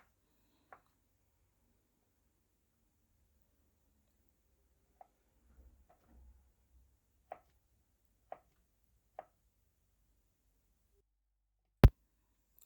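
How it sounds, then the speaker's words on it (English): A knife cuts plantain into small cubes on a board, giving sparse, faint, isolated taps with long quiet gaps and one sharper knock near the end. "Now I will section this plantain into a preferable size to make a small cube."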